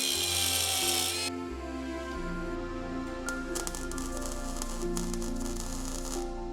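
A power tool cuts off metal mounts on a Toyota Supra, a steady whining drone with a shriller burst at the start and a few scraping bursts later, heard close and without voices.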